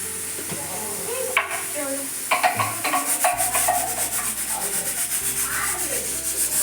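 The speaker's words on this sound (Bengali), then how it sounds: "এই যে এখন লঙ্কাটা দিয়ে দেবো দিয়ে ভালো করে কষিয়ে নেবো" Onion, ginger, garlic and chili frying in a pan, a steady loud sizzle with scraping and stirring strokes that grow rhythmic partway through, close by and with no talking.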